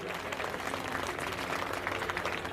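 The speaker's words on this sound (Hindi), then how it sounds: "अरे तालियों में कंजूसी क्या कर रहा, बजा दो ताली" Crowd at a political stage event in Sagar with the chief minister present, clapping steadily in a dense, even wash of applause that stays moderate in level throughout.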